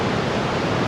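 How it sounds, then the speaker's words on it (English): Ocean waves crash on a beach on an overcast day, a loud continuous surf roar that drops away abruptly at the end. "these waves are incredible"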